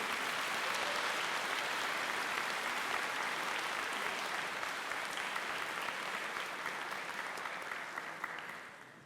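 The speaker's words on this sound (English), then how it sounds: "A big applause for Andy Price." Sustained audience applause, a dense steady clapping that fills the whole stretch and fades slightly toward the end.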